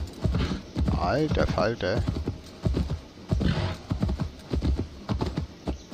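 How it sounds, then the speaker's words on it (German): Hooves clip-clop steadily beneath a horse ridden in Assassin's Creed Valhalla, with a whinny, while someone talks over them through most of the stretch. "Wir reiten wieder runter."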